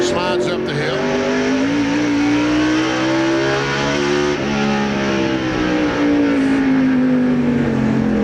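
NASCAR stock cars race at Martinsville in 1997, with Earnhardt's car among them. Loud, continuous engine roar fills the track, with rising and falling revs through the turn and a sustained tonal whine, while a commentator talks over it.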